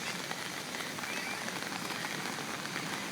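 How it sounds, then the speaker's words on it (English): Heavy rain on day two of a prolonged downpour, a dense, unbroken hiss of drops pelting surfaces, loud and steady throughout with no voices. "This is only day 2 of the rain."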